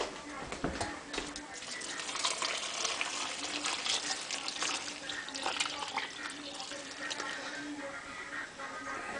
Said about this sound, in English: And put in the 2 pints of stock that I made up.